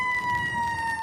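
A steady wailing emergency vehicle siren sounds near and loud during a wildfire in Annapolis County, Nova Scotia, holding two sustained tones with road rumble beneath.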